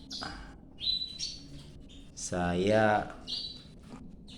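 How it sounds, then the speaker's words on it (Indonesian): Baby birds chirp in their nest while a parent feeds them, giving short high tweets in bursts, near and clear, with a person talking over them. "melihat anak burung tersebut masih belum bisa mandiri, masih disuapin sama induknya"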